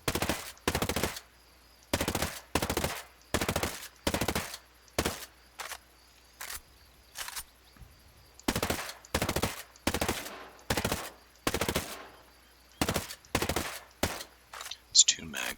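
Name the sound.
AK-12 assault rifle full-auto fire, video game Ghost Recon Breakpoint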